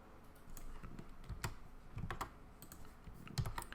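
A recipe description is typed on a computer keyboard: quiet, irregular key clicks with occasional louder taps, close up and with no voices.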